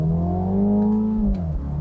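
A 2022 Mini John Cooper Works convertible accelerates with a steady, loud engine drone, which then drops in pitch near the end as the gearbox shifts.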